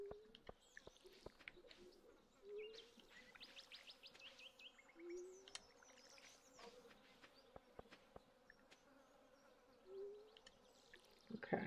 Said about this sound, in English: I hear those bees.